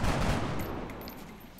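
A short burst of gunfire from the XCOM Enemy Within video game fires once loudly, then quickly fades into a brief tail.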